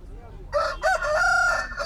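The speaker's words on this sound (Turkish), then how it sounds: "şu yakışıklı Dövüş horozları" A fighting rooster at a poultry market crows loudly and close by, one long harsh drawn-out call rising after a brief pause.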